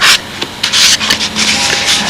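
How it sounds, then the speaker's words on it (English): Close, dry rubbing strokes of a fine-grit sanding stick dressing an edge on a model B-25 bomber's nacelle and cowling, several quick back-and-forth passes with a papery rasp. "sanding sticks with very fine grit, just to dress that off just a little bit"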